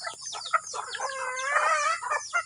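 Hens clucking in a steady, close chatter, several birds overlapping with rising and falling calls, no talking.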